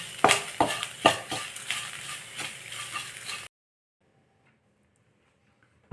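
Drumstick leaves with a little salt are stirred and sautéed in a pan for a chutney, giving close scraping and sizzling strokes in an irregular rhythm for a few seconds before stopping into near silence.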